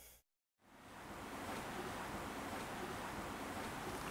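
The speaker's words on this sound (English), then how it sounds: "It's a beach." Broad steady wash of ocean surf on a beach opening a song intro, starting after a brief silent gap and holding loud and continuous, like rolling waves with wind.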